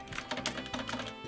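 A write-protected cassette tape is pushed into an Aiwa XK-S7000 cassette deck, giving a quick run of close, crisp plastic clicks and clatter from the loading mechanism.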